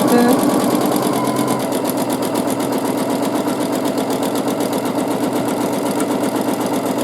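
A sewing machine stitches free-motion quilting of wavy lines, a steady rapid mechanical chatter running continuously and close for the whole stretch.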